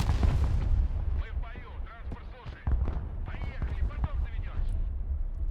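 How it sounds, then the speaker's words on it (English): Artillery in the Broken Arrow war game booms repeatedly in a dense, continuous barrage, with heavy low rumbles and sharp blasts piling over one another at close range. "Artillery."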